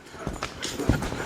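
Horse hooves clip-clop on the ground of a round yard as the animal is ridden around a small circle, a few soft, fairly close footfalls with no talking.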